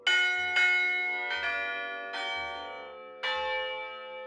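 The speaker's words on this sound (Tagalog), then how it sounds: "Ang bells na ito, hindi katulad ng ordinaryong kampana na iisang tunog lang ang nagagawa dahil set o binubuo ito ng maraming kampana." A set of many tuned church bells, each with its own musical note, rings in Iloilo or Capiz, Philippines: five loud, clear strikes with long ringing overtones that decay between hits, heard alone.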